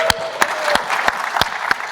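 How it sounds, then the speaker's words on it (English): A room of attendees at a Humans to Mars summit applauds Janet, a brisk, fairly loud wash of clapping with several sharp claps standing out at a steady pace. "everyone give a round of applause for Janet"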